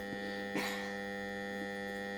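Energized Telemecanique LC1-D09 three-pole 25 A contactor gives a steady, low electrical mains hum throughout, alone and fairly quiet, with a brief faint rustle partway through.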